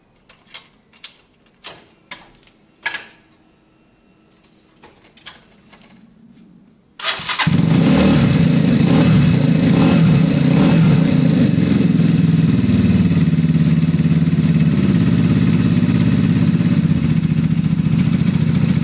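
A motorcycle engine on automatic choke, from a 2022 project bike, makes a few sharp clicks and cranks, then catches at about seven seconds and holds a loud, fast, steady idle close by.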